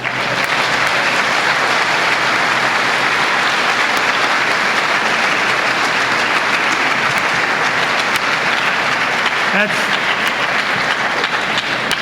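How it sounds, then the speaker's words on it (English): Sustained audience applause fills a room at a Dollars for Scholars scholarship event, loud and steady from start to finish with a faint murmur of voices underneath. "Everybody clap."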